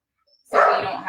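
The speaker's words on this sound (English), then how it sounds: "See what happens when we try to leave the dog out?" A dog gives one short, loud bark after a brief silence, then a shorter yelp close by.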